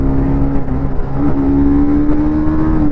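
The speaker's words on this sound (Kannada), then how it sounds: "gear to gear performance test ಮಾಡ್ತಿದ್ದೀನಿ" A 2025 TVS Apache RR310 motorcycle, a 300 cc race bike, pulls hard through its gears with a loud, close, sustained engine drone whose pitch climbs steadily.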